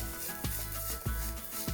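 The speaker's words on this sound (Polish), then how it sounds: "jakby pan, panie marszałku, mógł te kureczki wrzucić tutaj na mocno rozgrzany olej, na chwilę" Chanterelle mushrooms land in smoking-hot oil in a pan and sizzle steadily up close, with several sharper crackling bursts at regular intervals and no voices.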